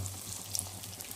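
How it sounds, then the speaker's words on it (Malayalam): A chicken egg frying in a hot clay pot gives a steady, faint crackling sizzle with a couple of brighter pops, under a low background hum, with no voices. "അപ്പോൾ നമ്മൾ കോഴിമുട്ട കൂടി പൊരിക്കുന്നുണ്ട് കേട്ടോ"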